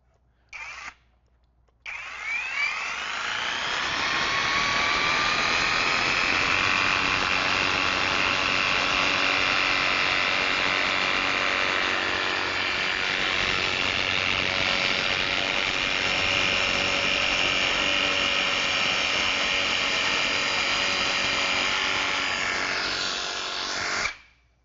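A TapeTech Wool Cut 18 cordless insulation saw makes an angled cut through heavy mineral rock wool. A short blip and a pause lead into a steady, close, high-pitched motor whine with a buzzing blade that runs unbroken for about twenty seconds before stopping.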